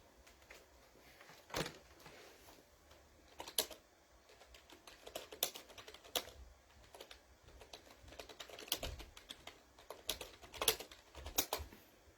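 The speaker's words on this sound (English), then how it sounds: "I typed all that in." Someone types a message on a computer keyboard, with bursts of quick, irregular key clatter and several louder key strikes, close and fairly quiet, with no talking.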